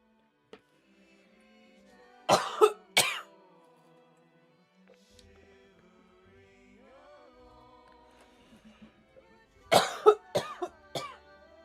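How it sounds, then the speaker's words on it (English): Two bursts of harsh, hacking coughs several seconds apart, each a quick cluster of loud coughs close to the listener, with quiet background between. "The coughing fits got to me."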